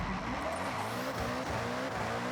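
A 2300-horsepower Koenigsegg Gemera in Forza Horizon launches on a drag strip, its engine note climbing steadily in pitch through the gears with a continuous tire-squealing roar, moderately loud and unaccompanied by talk.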